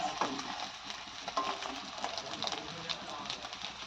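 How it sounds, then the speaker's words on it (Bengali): Round potato slices fry in a pan, a steady broad sizzle with occasional stirring scrapes and clicks, moderately loud and close. "আর একটু আলু ভাজা করে নেওয়া হচ্ছে"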